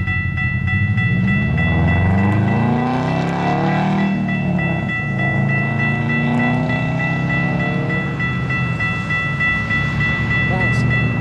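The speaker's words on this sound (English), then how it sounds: "We're going to have possibly two trains coming." A train rumbles past at speed, loud and close, with steady rail noise and a high ringing tone, like a crossing bell, throughout.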